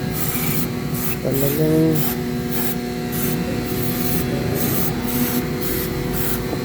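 A worn Mitsubishi Mirage engine part scrubbed with wipes, giving a steady close hiss of rhythmic rubbing strokes under a constant background hum, with a brief spoken word.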